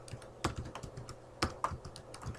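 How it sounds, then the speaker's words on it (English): Brisk, uneven clicks of keys tapped on a computer keyboard during digital design work, close and fairly quiet, a few sharper strokes standing out from the light patter. "Make sure we're typing in here."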